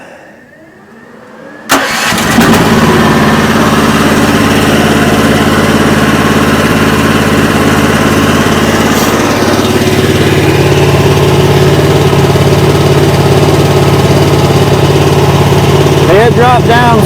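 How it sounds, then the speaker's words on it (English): A Chinese mini excavator's engine cranks and catches after a brief quiet moment, then settles into a loud, steady idle that runs on at close range. "we can fire it up now, and then I can put the floor pan on while it's fired up"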